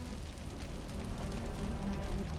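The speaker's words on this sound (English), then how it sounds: "The rain's getting heavier." Steady rain falls in the video game Wuthering Waves, a soft, even hiss of drops with no breaks, faint and distant, heard alone without any voices.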